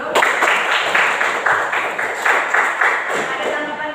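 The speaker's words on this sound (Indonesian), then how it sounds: "Kita tepuk tangan dulu." A classroom applauds a group presentation, with scattered hand claps running steadily for several seconds, fairly loud and close, with no talk over them.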